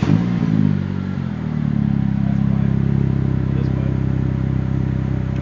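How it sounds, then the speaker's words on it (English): Dodge SRT-4 fitted with a Mopar Thermal R&D exhaust idles close by, a steady low rumble that shifts slightly near the start and then settles into an even drone. "this is Mopar 3R's Thermal R&D Exhaust."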